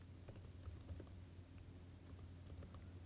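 Typing on a computer keyboard while entering code, with soft, irregular keystroke clicks over a steady low hum and no talk.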